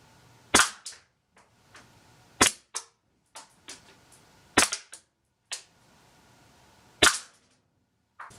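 A BB gun fires at a Simways mesh mask at short range, each sharp crack paired with a quick smack of impact, about eight shots spaced roughly a second apart, loud and close in a quiet room.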